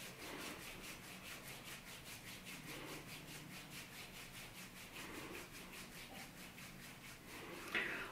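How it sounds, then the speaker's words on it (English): Hands rub up and down over a face in a steady, vigorous self-massage, a close, dry brushing swish that repeats evenly at roughly four strokes per second and keeps going with no talk. "we're gonna rub our face in an up and down vigorous motion"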